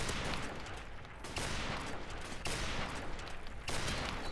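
A .50 caliber Barrett sniper rifle fires in Modern Warfare Remastered, giving heavy, loud blasts at roughly one-second intervals, each with a booming tail, with no talk over them.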